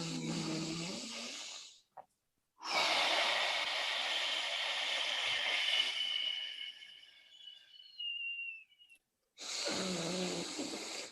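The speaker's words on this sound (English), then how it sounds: "deep diaphragmatic performance breathing, from the bottom of your stomach," A person demonstrates deep diaphragmatic breathing from the stomach: loud, close, drawn-out breaths, a short one, then a long airy rush lasting several seconds, then another, separated by silent pauses.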